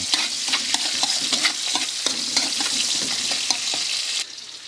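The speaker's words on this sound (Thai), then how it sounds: "ใส่พริกกระเทียมที่เตรียมไว้" Chopped chili and garlic fry in not-yet-very-hot oil in a pan, a steady close sizzle broken by regular scraping and tapping of a stirring utensil, ending in a quieter hiss.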